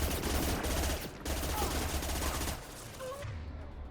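Pistol gunfire in Mass Effect 2, rapid repeated shots in a dense combat mix, loud and continuous through most of the moment before easing off near the end.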